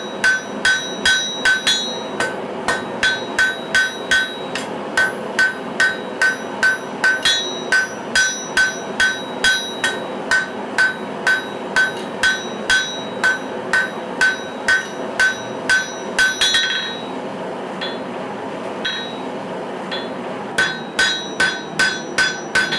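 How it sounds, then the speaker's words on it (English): Sharp metallic hammer blows ring out on a steel knife blade preform being forged, a steady run of evenly spaced strikes close and loud, with a brief pause partway through before the rhythm resumes. "I'm not trying to overpower the blade, I'm just letting the hammer do the work, taking my time."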